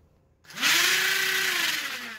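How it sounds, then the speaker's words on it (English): Nerf blaster flywheel motors in an arm-mounted proton pack rig spin up with a sharp electric whir that rises in pitch, holds a steady high-pitched whine, then starts to wind down. "If I connect these two, the flywheel should go."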